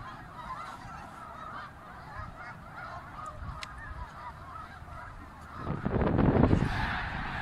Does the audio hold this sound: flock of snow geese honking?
yes